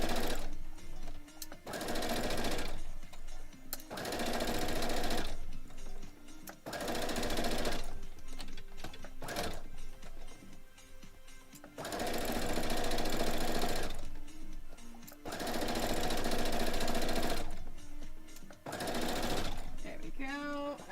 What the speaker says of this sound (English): all you're doing now is you're just sewing these rows together